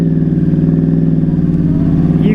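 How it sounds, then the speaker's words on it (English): A Yamaha R1 crossplane motorcycle engine with a quad exhaust revs steadily and loudly up close, its deep, uneven throbbing pulse running without a break. "You cannot beat the sound of the crossplane in these R1 motors."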